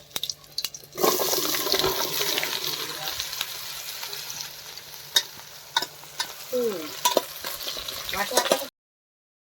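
Oil heating in a pan for a jackfruit curry, sizzling and crackling continuously with scattered sharp pops and occasional utensil clinks, close up, then cutting off abruptly near the end.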